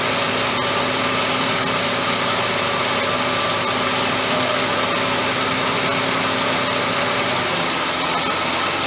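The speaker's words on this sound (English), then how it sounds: "You can actually hear the alternator start to kick on now." A Ford Mercury engine idles steadily with a constant mechanical hum and faint whine as its alternator comes on after a broken wire is jumpered to the battery post; no talk.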